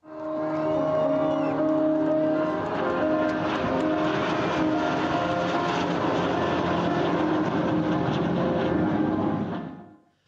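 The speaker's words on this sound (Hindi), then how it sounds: "विमानों ने 5 मीटर की दूरी बनाते हुए आसमान में तरह तरह की आकृतियां बनाई।" Military aircraft flying in close formation over a historic air show, producing a loud, continuous engine roar that holds steady for about ten seconds before cutting off.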